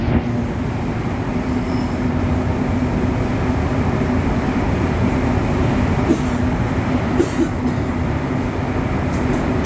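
A Montreal Metro train decelerates between Mont-Royal and Atwater stations with a steady low roar and faint squeals, the deep drone of the cars filling the space with no talking.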